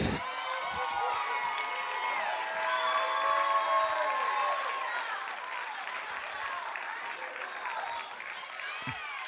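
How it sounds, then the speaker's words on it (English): A church congregation applauds and cheers steadily, with shouts and whoops rising over the clapping for several seconds. "I don't want you to clap on that"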